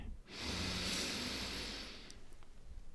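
One long, deep inhale through the nose, a soft airy hiss that rises quickly and holds for over a second before fading, close and quiet.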